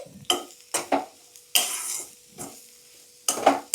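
Prawn curry with chili powder being stirred in a pan, a handful of distinct scraping strokes with brief gaps between them, close and clear with a faint sizzle underneath, no talking.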